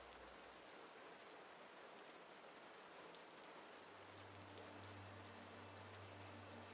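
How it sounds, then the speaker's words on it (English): Light rain patters steadily outdoors on a mountainside, forming a soft continuous hiss with no voices, while a low steady hum rises underneath partway through. "As this light rain continues, we are ending the episode here."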